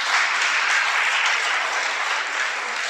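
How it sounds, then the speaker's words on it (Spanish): A crowd at a Spanish-language sermon breaks into sustained applause, a thick, even roar of clapping that holds at full strength for a few seconds without any speech. "Un aplauso al Creador."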